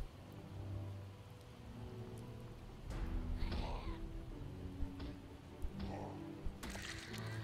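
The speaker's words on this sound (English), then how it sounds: "This won't stop raining sometimes." Steady rain pours down in the zombie survival game Project Zomboid, a dense, even hiss throughout with a few sharper drip-like taps and crackles layered over it.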